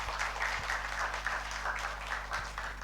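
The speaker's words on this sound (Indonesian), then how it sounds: "Ya, sekali lagi kita kasih aplaus." A congregation at a GKKB Kumpai church service applauds, a sustained, dense round of clapping that fills the room with a low hum underneath.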